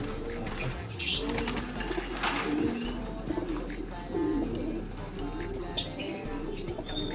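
Racing pigeons in a one-loft race loft coo softly in low, rolling calls, mixed with brief bursts of wing flapping and shuffling nearby, while someone talks quietly over them.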